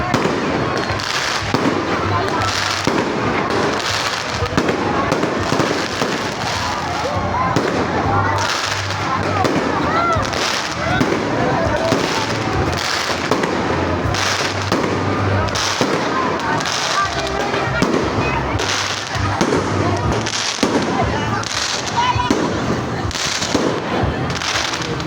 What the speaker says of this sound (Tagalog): eto na ang pinaka-finale ng grand opening ng Lipa City Night Market, ang fireworks display.